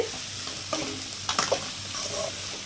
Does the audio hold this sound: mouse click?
no